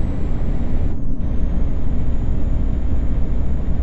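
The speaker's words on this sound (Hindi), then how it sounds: "पांचवे गियर में हायर आरपीएम पर" A bus engine drones at high rpm in fifth gear in a Indian bus driving game on dangerous roads, a steady loud roar with a high whine and a brief dip near one second.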